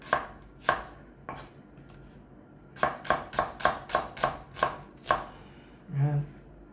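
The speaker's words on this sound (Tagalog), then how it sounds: "Sige po, i-slice na po natin yung sibuyas." A knife slicing an onion on a cutting board, sharp woody knocks: two isolated cuts, then a quick rhythmic run of about nine strokes, close and clear, ending with a soft low thud.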